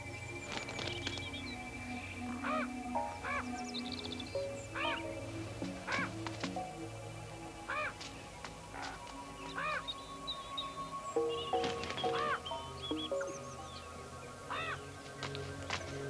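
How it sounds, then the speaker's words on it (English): A crow and a kite fighting over a feast, giving repeated harsh caws and squawks spread across the scene over a steady background hum, at moderate distance. "Next to take advantage of the feast are a kite and a crow, who fight for precedence."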